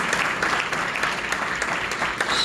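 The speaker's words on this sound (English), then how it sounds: "so let's give her a big round of applause." Audience applause for a violin performance at a Carnatic music concert, a steady dense clapping from a seated crowd that fills the whole stretch at moderate loudness, with no voices above it.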